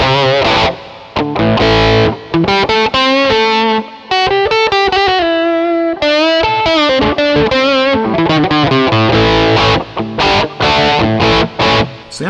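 Distorted metal tone from an electric guitar through a JOYO DC-15S amp with looper, played as loud, dense riffs and fast note runs with little pause across the passage.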